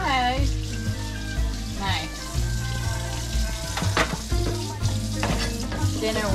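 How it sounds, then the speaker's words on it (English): Teriyaki chicken fries on a Blackstone griddle at a beach campground, with a steady close sizzle running throughout and occasional scraping and stirring, while people talk over it. "I'm about finished with the dinner, the teriyaki chicken, which I found online for the Blackstone"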